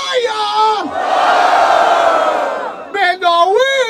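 Rap battle crowd at Batalha da Aldeia in Barueri roars in a loud, sustained cheer and yell after a freestyle round, swelling for a few seconds before voices break through over the noise.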